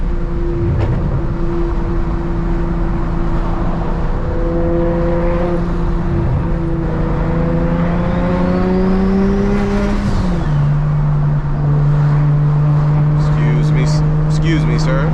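A 600hp single-turbo BMW 335i drives and accelerates from inside the car, its engine droning and climbing in pitch through the gears, then dropping after a shift around the middle, with someone talking over it.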